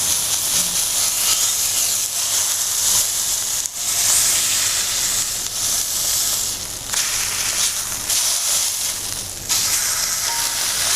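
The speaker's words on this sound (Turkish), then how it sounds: "Şimdi şu etlerimizin iki kafasından da birazcık ısıyı vereyim." Beef pieces for a mustard roast beef sear loudly in a hot pan, a steady broad sizzle and hiss running through with brief dips as the meat is turned, no voices over it.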